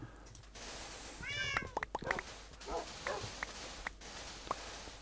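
A cat in the video game Minecraft meowing several times in short, faint rising and falling mews, mixed with a few brief sharp sounds over a quiet background.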